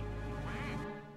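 In the Mario Party video game, a duck quacks once in a single nasal, drawn-out call that fades abruptly at the end, heard over game sound.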